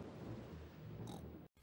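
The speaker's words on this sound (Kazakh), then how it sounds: "Бұл күн күркіреу, Пеппа." Cartoon thunder from Peppa Pig rumbles faintly and continuously before a brief break, a low, distant roll with a hint of rain.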